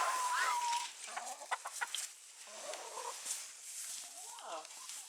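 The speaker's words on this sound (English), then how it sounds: "Oh, I do love these chickens." Chickens clucking around a village walk, a few close clucks and squawks breaking out in short irregular bursts, with quieter calls from other birds scattered underneath and a person talking softly at moments.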